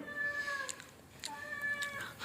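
A small kitten lying by the front steps of a house gives two drawn-out, high meows close by, separated by a brief pause.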